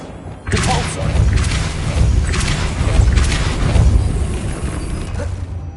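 A Depulso spell cast in Hogwarts Legacy, a sudden heavy thump that leads into sustained grinding, creaking mechanical rumble, loud and close for several seconds.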